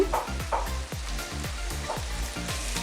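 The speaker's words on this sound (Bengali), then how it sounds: "এইভাবে সমস্ত মশলা দিয়ে কষানো হয়ে গেছে" Ground spices such as coriander, cumin, turmeric, black pepper and Kashmiri chili powder sizzle with desi chicken in a pan, a steady frying hiss broken by repeated scraping stirs in a regular rhythm, with no talking.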